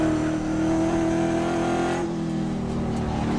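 Onboard a Trans Am race car at Thunderhill during multi-class racing, the engine drones loud and steady as the driver charges hot into turn 6, with a slight pitch change as the car runs wide onto the grass.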